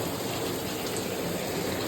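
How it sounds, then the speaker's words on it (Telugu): Heavy, steady rain pours down in Santa Cruz, Mumbai, in a dense, unbroken hiss, loud and close, with no voices. "ఫుల్ జోర్ అయిపోయినాడు వాన, చూస్తారా ఎట్లా పడుతున్నదో।"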